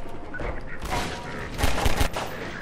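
Half-Life 2 gunfire erupts in quick bursts, sharp close shots clustered near the end, with a voice talking over part of it.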